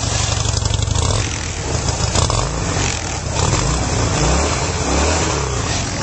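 Harley-Davidson Wide Glide with stock exhaust rumbles and revs close up, the engine note rising and falling in several throttle blips over a steady idle.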